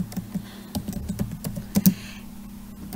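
Someone types an SQL query on a computer keyboard, producing close, crisp key clicks in an uneven rhythm, with a few quick clusters before the tapping trails off.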